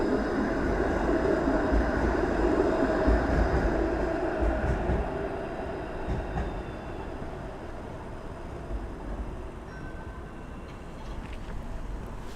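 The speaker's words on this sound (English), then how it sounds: "Up here's a St. Clair streetcar." A St. Clair streetcar passes on a Toronto street in the evening, a loud rumbling roll that swells and then fades as it moves away, among city traffic noise.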